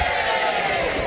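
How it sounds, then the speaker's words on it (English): Crowd at an outdoor Christmas carol concert in a town square in Shrewsbury cheering steadily for a performer introduced by name, a dense, continuous wash of voices at even loudness throughout. "Talia, give her a nice big cheer."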